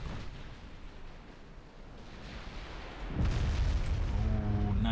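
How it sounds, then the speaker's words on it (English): A torpedo detonating against a ship in the naval strategy game Ultimate Admiral Dreadnoughts: after a dull rumbling wash of sea and gunfire, a heavy, close boom erupts and rolls on loudly to the end. "And a torpedo detonation there."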